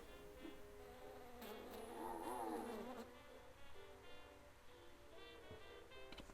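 Bee buzzing in Wallace & Gromit's Grand Adventures, a wavering insect drone that swells for a second or two mid-clip over a bed of game sounds and music.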